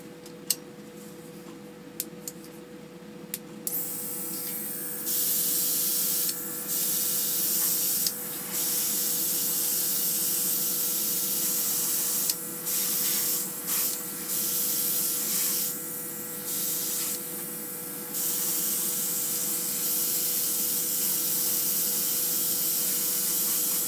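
Close airbrush spraying paint gives a steady, loud hiss. It runs in long bursts broken by brief pauses where the spray stops and restarts, with no talking.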